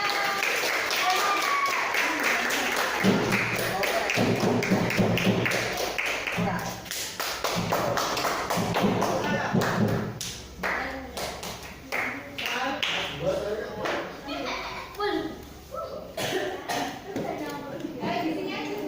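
Children in a classroom clapping their hands, a brisk burst of many claps that thins into scattered taps, with a teacher and pupils talking throughout.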